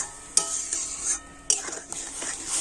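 Semolina is stirred into milk in a pan over a low flame, giving a continuous close scraping swirl with a couple of sharp spoon taps against the metal rim.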